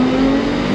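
A Ferrari 812 Superfast driving at speed, its engine holding a steady, loud, sustained tone with no pauses.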